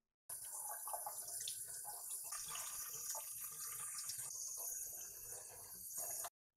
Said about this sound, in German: Die zwei Filter hier unten kannst du ohne weiteres unter warmem Wasser mit der Hand etwas sauber machen.